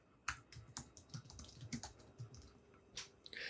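Quiet typing on a computer keyboard while entering a name and email address, with irregular clusters of soft key clicks through the stretch and a faint background hiss.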